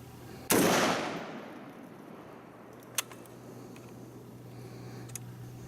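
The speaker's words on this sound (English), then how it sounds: "so we're gonna go ahead and try to shoot a round" An AR-10 rifle fires one sharp, loud shot that rings off and fades over about half a second, followed by quiet outdoor air and a couple of faint clicks.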